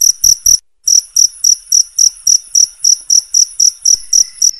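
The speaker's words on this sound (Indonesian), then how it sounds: "binatang sejenis serangga yang mampu bersuara nyaring, jangkrik" A cricket chirps loudly at night in a steady series of sharp, high pulsing trills, close and clear against an otherwise quiet background.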